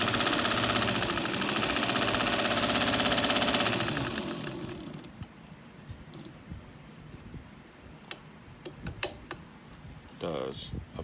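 An antique White Rotary 9002 sewing machine runs on fine tricot fabric with a loud, dense mechanical whir for about four seconds, then stops, leaving scattered clicks and handling sounds.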